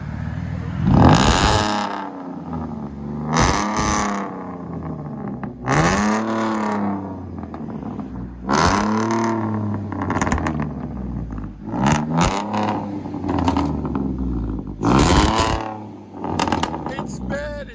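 A 2011 Ford F-150 V6 with true dual straight-pipe exhaust revs loudly and repeatedly, the engine note sweeping up and falling back in several bursts, with people talking over it.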